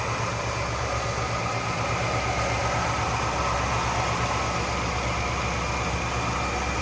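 A 1976 Oldsmobile 98 Regency hardtop's 455 Rocket V8 runs steadily, a smooth, even engine hum with a low throbbing undertone and a constant hiss, no voices over it.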